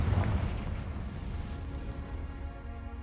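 A Confringo fire spell blast in the Hogwarts Legacy video game, heard as a loud booming explosion that opens the clip and then leaves a dense rumbling roar that slowly fades.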